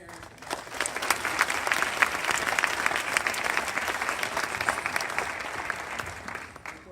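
An audience applauds steadily for a parent at a choral performance, a dense, even clapping that swells quickly, holds for several seconds, then tapers near the end, with no voices on top.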